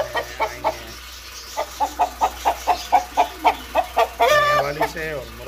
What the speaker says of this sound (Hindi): ये दो जो आपको नजर आ रही हैं ये मुर्गियाँ हैं और ये मेल है